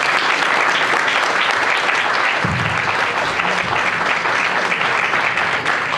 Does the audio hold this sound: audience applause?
yes